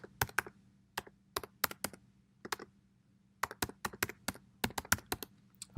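Keystrokes on a computer keyboard tapping out an email address, close and crisp in quick bursts of clicks separated by short pauses, with a faint steady hum underneath.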